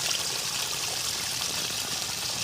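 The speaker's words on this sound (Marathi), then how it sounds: "आणि एवढं पाणी येतं आहे" A steady, full rush of water pours continuously from a solar pump pipe, loud and close, with no voices.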